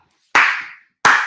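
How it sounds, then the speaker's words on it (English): Two loud, close hand claps, each a sharp burst with a brief ringing tail, separated by about half a second of silence. "I gotta give a clap for this man"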